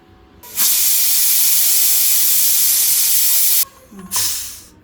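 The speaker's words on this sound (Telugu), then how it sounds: "ఒక విజిల్ అయిపోయింది కదా" A pressure cooker vents a loud, steady hiss of steam for about three seconds, cuts off, then gives a shorter burst.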